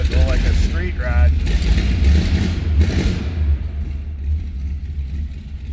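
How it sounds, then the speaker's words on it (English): A 1936 Ford Deluxe 3-window coupe's flathead engine idles with a deep, lumpy low rumble and a few revs, mechanical clatter underneath, while someone talks over it nearby. "old school flathead sound, sounding good, more like a street rod"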